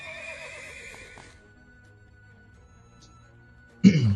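A horse in the video game Dynasty Heroes gives a short, loud whinny near the end. Game sounds fade into near silence before it.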